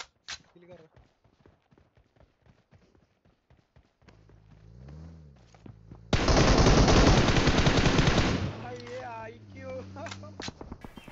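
Gunfire in PUBG Mobile, a rapid series of sharp shots early on, then a loud sustained burst of automatic fire in the middle, with other game sounds and someone talking throughout.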